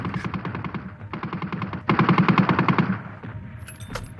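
German machine guns firing at the Battle of the Somme in 1916 rattle in rapid, sustained bursts separated by short pauses, loud and continuous, with no voices.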